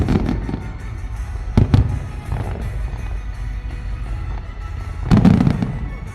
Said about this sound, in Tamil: ஒரு பக்கம் பாட்டு, இன்னொரு பக்கம் ஃபயர் ஒர்க்ஸ்.